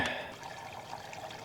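Water pours from a jug into an antique CAT TraxCavator tractor radiator, a soft, steady trickle and splash that runs quietly and close for about a second and a half, with no talking.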